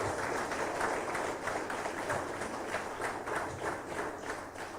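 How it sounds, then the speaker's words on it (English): Sustained applause for the vice presidential candidates at an LFA election debate, many hands clapping in a steady, slightly rippling wash at moderate distance, with no talk over it. "you want to give a big hand of applause to our candidates for VP"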